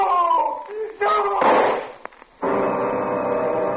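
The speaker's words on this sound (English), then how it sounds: "I fired again and again" A gunshot rings out in a radio drama: one sharp, loud burst in the middle of voiced dialogue, followed shortly by a fainter crack.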